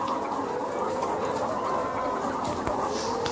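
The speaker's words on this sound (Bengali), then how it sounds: "আর দেখেন আমাদের কত মুরগি, মনে হচ্ছে না যে এটা মুরগির দেশ?" A large flock of layer hens on an egg farm clucks continuously, a dense steady chatter of many birds filling the air with no pauses.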